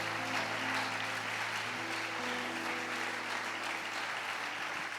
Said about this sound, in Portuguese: irmãos, aplauda o Senhor, amém, nessa noite.